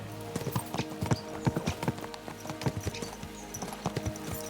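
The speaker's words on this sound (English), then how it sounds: "Let's really spur these horses on, eh?" Horses' hooves clip-clop steadily in Kingdom Come: Deliverance II, with several animals trotting close by in a brisk, uneven rhythm over a low background hum.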